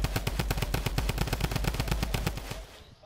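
Rapid automatic gunfire in the Fortnite video game, a dense, steady burst of closely spaced shots that runs for over two seconds and then stops abruptly.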